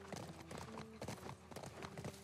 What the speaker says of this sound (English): I don't know how this fucking horse works.